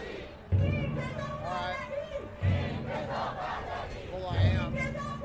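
A large crowd cheers and shouts in loud waves, each surge starting with a sharp roar about every two seconds and carrying on in a dense, sustained din.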